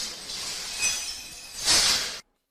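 Broken glass on a floor after windows were blown out in a kindergarten, gritty crunching and tinkling shards, with a louder clinking crunch near the end before it stops abruptly.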